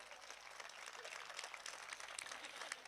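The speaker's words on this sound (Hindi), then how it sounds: "ये तालियां इसरो के लिए मैंने इसलिए बजवाई है" Applause fills a college hall during a Hindi comedy poetry show, with many hands clapping in a dense, steady patter at moderate distance and no talk over it.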